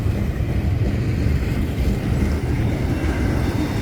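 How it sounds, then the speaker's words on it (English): A freight train rolling past at close range near a desert ghost town on the Arizona–New Mexico border, a loud continuous low rumble with faint rail clatter, steady throughout. "Like every few seconds there's a train that passes."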